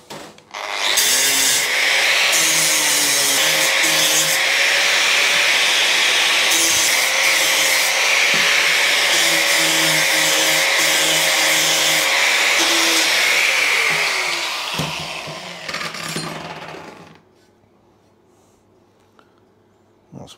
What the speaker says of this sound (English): I'm going to grind that shape into it now.